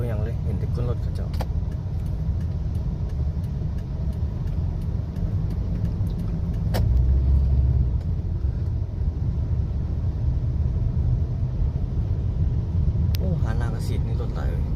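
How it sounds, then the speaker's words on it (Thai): Continuous traffic rumble from trucks, including twelve-wheelers, and cars driving along a busy city road in Vientiane in the afternoon, a steady engine drone with occasional brief clicks and rattles and no clear voices. "รถบรรทุกเนาะหน้านี่เขาจะต้องแซงทุกคน"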